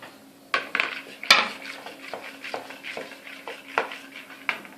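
Shaving-foam slime stirred in a bowl, heard as repeated close clinks and scrapes of utensil against the bowl in an irregular rhythm, with one sharp knock early on and no talking.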